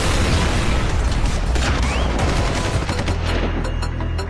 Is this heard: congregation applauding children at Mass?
no